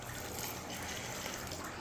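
Lukewarm water pouring into dough with egg and sugar, a faint, even trickling stream that runs steadily without a break.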